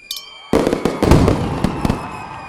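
Fireworks sound effect: a loud opening burst followed by a dense run of crackling bangs and pops that slowly fade, close and alone.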